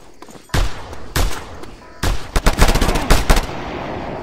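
Video game gunfire in Just Cause 2: sharp, loud single shots followed by a rapid burst of closely spaced rounds, heavy and near, with no talk over it.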